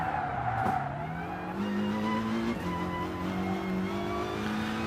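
Race cars on the Nordschleife in the video game Gran Turismo Sport, including a Nissan GT-R, heard as a steady engine drone that climbs and shifts in pitch through the gears, with light tire noise, loud and close.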